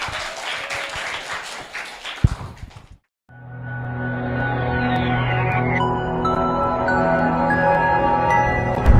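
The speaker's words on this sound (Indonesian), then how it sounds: "Tepuk tangannya dong teman-teman." Classmates at Al Fityan School in Tangerang applaud after a student's speech, with scattered clapping for about three seconds before a sharp cut to steady music.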